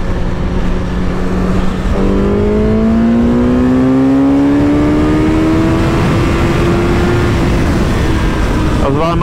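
A Suzuki GSX-S 1000 motorcycle engine pulls through a 100–200 acceleration run, its pitch rising steadily and loud with wind roar, then easing off at the end.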